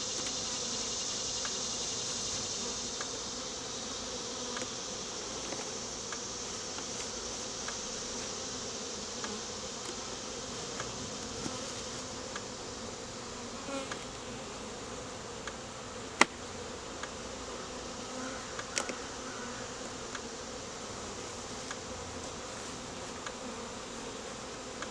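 A steady, droning buzz of many honeybees around hive frames fills the air close by while hives are combined, with occasional soft clicks and knocks of handling.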